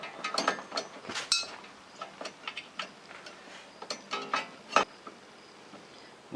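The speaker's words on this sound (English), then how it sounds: "So I'm going to put the bolt in on the bottom." Ratchet turning a bolt on a motorcycle's front brake caliper bracket during a dual-piston brake upgrade, giving short irregular bursts of close clicking with brief pauses between strokes.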